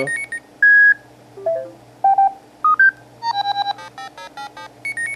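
A string of short electronic iPhone notification tones and beeps at different pitches, one after another, close and clear with brief gaps.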